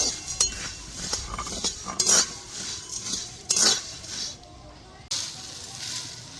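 Fried puffed rice (khoi) tipped out of a pan, making bursts of light rattling, clinking and scraping up close, with a few sharper metallic knocks spread through, and a short quiet break near the end.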